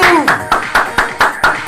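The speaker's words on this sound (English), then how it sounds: "everyone start clapping together" Audience clapping together in unison at a relationship seminar, seven sharp, evenly spaced claps in a steady rhythm, close and loud, with a voice calling out over the first beats.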